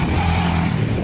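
An off-road stunt motorbike engine at a bike stunt show on a Chennai dirt track revs hard in a brief, loud, droning burst with a strong harmonic tone.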